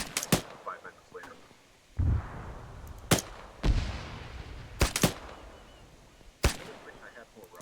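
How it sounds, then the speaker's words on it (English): Rocket impacts and gunfire in a beach-landing military video game: several sharp, loud bangs spaced a second or two apart, two of them followed by rumbling blasts, with quieter background battle noise between. "Was that a rocket impacting short on us?"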